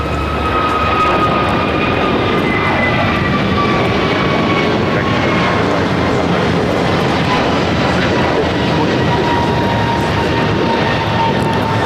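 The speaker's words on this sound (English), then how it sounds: "1526 taking off to Miami, Florida on the A321neo" An American Airlines Airbus A321neo jet takes off at LAX, a loud, continuous engine roar with a whining tone that holds steady for about twelve seconds.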